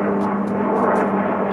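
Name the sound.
airplanes flying overhead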